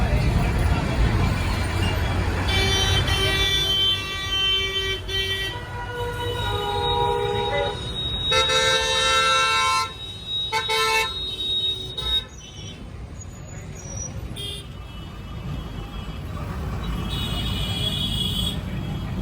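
A Kolkata tram's horn sounds several times in long, loud, tonal blasts over the steady rumble and clatter of the moving tram, with a voice talking faintly in the background.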